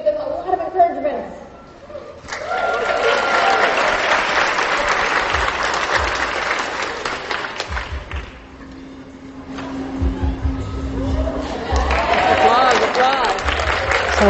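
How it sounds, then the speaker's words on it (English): Applause triggered by an applause button during an animal act, a burst of crowd clapping and cheering that swells, dips, then returns, with people talking over it. "one is hitting the applause button"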